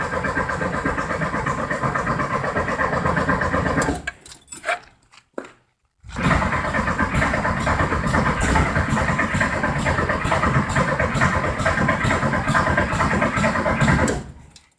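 A 1973 VW engine, long stored in a shipping container, cranks steadily and catches to a loud, even idle, cuts out briefly, then restarts and runs on with a rough, steady drone before shutting off.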